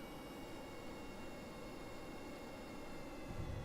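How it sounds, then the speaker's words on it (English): Steady roaring rocket engine firing in Kerbal Space Program, a downward-facing engine lifting a stock-built Star Wars ship vertically; a continuous broadband rumble holds at even loudness throughout, with no talk. "We're able to launch him vertically with this downward-facing engine."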